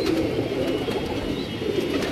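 Pigeons coo steadily on a Lahore rooftop, a dense, continuous low murmur of overlapping calls from several birds close by, with no voices over it.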